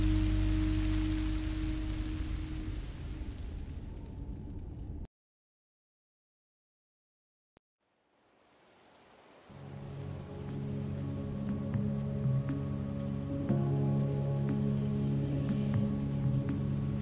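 Rain from the Minecraft Story Mode video game, a steady hiss of falling rain that cuts to silence and then fades back in under a low, droning musical bed.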